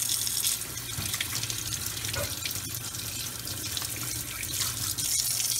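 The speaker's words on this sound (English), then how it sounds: "And you rinse everything with fresh water." Running tap water pours steadily over a cleaned, cooked blue crab in a sink, a continuous broadband splashing wash with small drips and shifts in the flow, with no voices.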